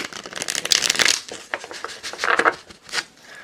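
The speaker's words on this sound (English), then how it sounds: "I'm going to do one more shuffle here before we go on." Close, crisp riffling of a deck of tarot cards being shuffled in several quick bursts, with no voices.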